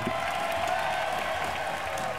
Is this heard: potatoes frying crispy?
no